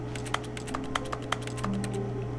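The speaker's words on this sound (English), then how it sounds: "I'm typing something." Rapid keystrokes on a computer keyboard inside the game The Stanley Parable on PS5, a quick irregular clatter of clicks over a steady low hum, with no talking.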